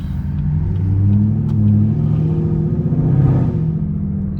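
Chevrolet Camaro with headers and a newly fitted exhaust, its engine rumbling loud and close with a deep throaty drone that swells in gentle revs.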